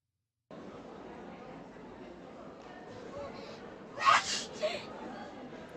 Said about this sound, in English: let out a sudden sneeze.